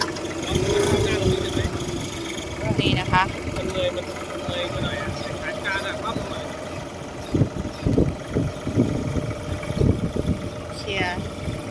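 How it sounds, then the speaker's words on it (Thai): The steady engine of an old Japanese 23-horsepower tractor idles and chugs near at hand, low and continuous, while someone talks over it. "ตัวนี้นะคะเราใช้รถไถนะคะ 23 แรงม้านะคะของเก่าญี่ปุ่นนะคะ"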